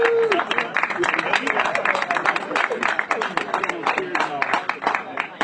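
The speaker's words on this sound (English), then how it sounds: "Let's start clapping for Kevin Kelley" Crowd at a political endorsement gathering clapping for Kevin Kelley, sustained brisk applause with sharp individual claps, a voice calling out briefly at the start.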